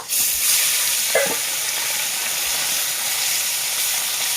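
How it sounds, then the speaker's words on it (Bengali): Fish lightly frying in a pan for a sour fish curry, a steady broadband sizzle and hiss that holds throughout, with a faint stir or clink of the utensil near the start. "এখন আমি টকের জন্য মাছটা একটু হালকা করে ভেজে নেব"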